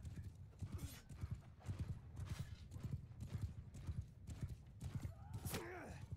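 Rhythmic clip-clop of horse hooves pounding along, joined near the end by a sharp whinny, amid the clash of a cataphract cavalry battle in a multiplayer game.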